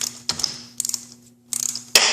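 A ratchet cranks out a spark plug on a Yamaha YZF R6, heard as close bursts of rapid metallic clicking separated by short pauses over a faint steady hum, with no talking.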